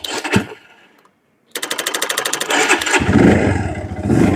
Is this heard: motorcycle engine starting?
yes